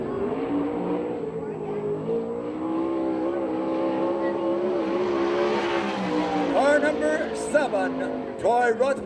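Sprint car number 18 qualifying on a Phoenix, Arizona track, its engine roaring steadily and rising in pitch, with a few sharp higher bursts near the end.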